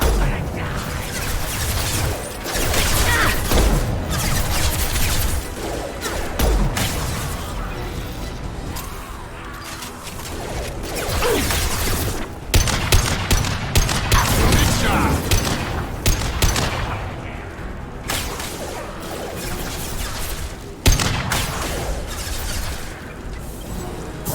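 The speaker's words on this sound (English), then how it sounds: "Firing now." Sustained gunfire and impacts from the Mass Effect 2 video game, with repeated bursts and crashes at steady loudness through the whole stretch, heavy and near, with no clear talk.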